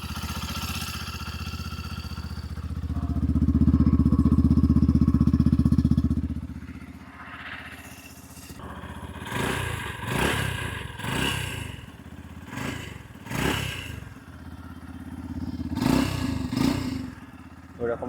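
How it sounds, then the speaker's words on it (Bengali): A Yamaha FZ Rave motorcycle engine runs up close, with a loud throaty revving burst that settles to a quieter idle while someone talks over it. "এটা হচ্ছে দেখো ইঞ্জিন সাউন্ড, এটা হচ্ছে ইঞ্জিন সাউন্ড।"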